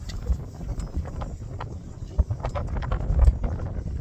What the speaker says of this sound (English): And this wind today, again, it's supposed to blow itself out